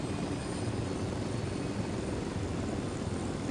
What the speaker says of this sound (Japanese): ユニダットのヘリが2機もいる